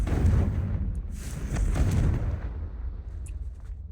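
A Confringo blasting spell explodes in a video game as a dense, rumbling burst that fades out over a few seconds, with no talking.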